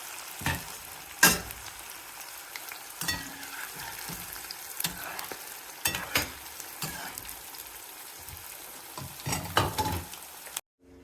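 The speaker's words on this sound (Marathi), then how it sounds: "आपण हे तेलाने छान असा तळून घेत आहोत" Steady oil sizzle from deep-frying vegetable manchurian balls, with repeated sharp crackles and bursts of spattering, close and fairly loud, ending abruptly.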